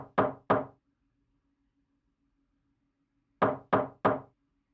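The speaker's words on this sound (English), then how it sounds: "Then I raised my hand to knock." Knocks land on a bedroom door, close and sharp, in two bursts of three raps separated by a long quiet pause.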